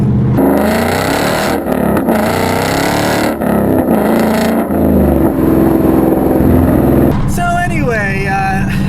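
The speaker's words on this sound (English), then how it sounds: "one thing with this exhaust is you can't accelerate without everyone noticing" A 2015 Ford Mustang GT with a Roush exhaust accelerating hard, a loud, close V8 roar climbing through the gears with brief shift dips, then a sharp rising rev at the end, with someone talking over it.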